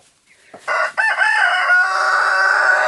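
Chickens settled in a new coop crow loudly and close by, with clucking around the crowing, after a quiet start.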